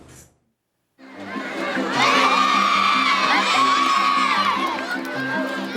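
Crowds of children at a school sports day shout and cheer together in a loud, sustained roar of many voices that swells and holds after a brief silent start.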